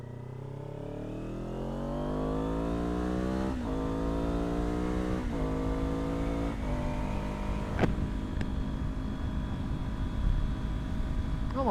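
A green Ninja motorcycle idling in traffic revs up, its engine note climbing smoothly and then holding a steady, buzzy drone that sounds close and fairly loud, with no talk.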